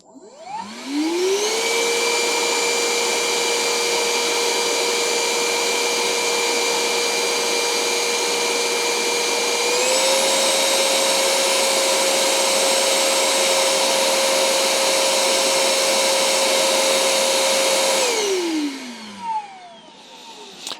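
A Parkside or Hychika vacuum cleaner switches on and whines steadily at low power, then steps up to a slightly higher, louder tone at high power before winding down. The motor hum stays close and continuous throughout.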